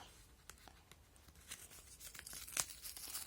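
Paper tearing and crinkling in short bursts, close by, with a sharper rip near the end; no voices.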